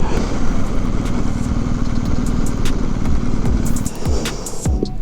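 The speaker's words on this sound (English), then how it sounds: "So this is the bike, the Rally Edition 1250 GS." A BMW R1250 GS Rally Edition motorcycle engine runs loud and close with a steady throbbing rumble, with light clatter and a dip in level near the end.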